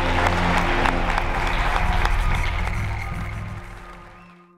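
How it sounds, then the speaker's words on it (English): An audience at a Mr. America bodybuilding event applauds its athletes, a loud, dense burst of clapping over a low musical drone that gradually fades away near the end. "Give yourselves a round of applause."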